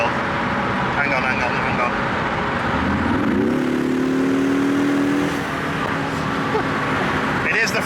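A 4-cylinder car engine hums steadily inside the cabin while driving, with road noise throughout and a rising engine tone as it accelerates midway.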